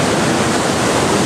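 Purwa waterfall on the Mahana river near Rewa, dropping about 98 metres, roars loudly and continuously as a dense, close, unbroken wash of falling water with no voices.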